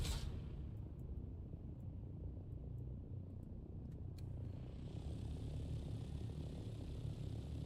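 An aircraft in the game Dune Awakening makes a scouting flyby, a low, rumbling engine drone that stays constant and fairly faint throughout, with a few thin clicks and a soft rise in airy hiss partway through.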